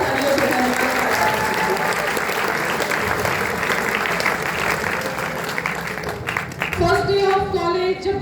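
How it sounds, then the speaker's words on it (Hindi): College students on the first day of college give loud, sustained applause for about six seconds, with a broad dense clatter of hands. A voice then starts speaking as the clapping dies away. "एक बार जोरदार तालियों से इनका हम धन्यवाद देना चाहते हैं"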